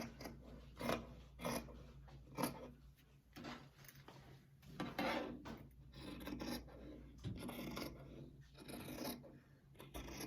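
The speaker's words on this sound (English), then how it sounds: "I always want to make sure I'm cutting onto the table, not up in the air. Cut along your line there." Scissors slicing through fabric along a marked line on a tabletop for lounge pants, a series of quiet rasping snips and rubs in an uneven rhythm, close and faint.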